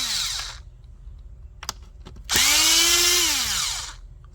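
Power driver with a Torx 20 bit loosening bolts on a BMW X3 G01 B58 engine, a short whir, a few clicks, then a louder rising-and-falling motor whine, close up with no talk.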